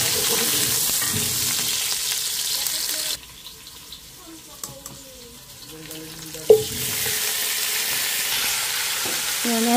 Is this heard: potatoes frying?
yes